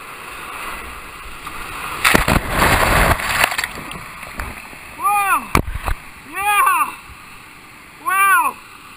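A kayak runs about 20-foot waterfalls at Canyon Falls in Box Canyon, Idaho, with a loud, rushing splash burst early on, followed by several short, repeated whistling chirps.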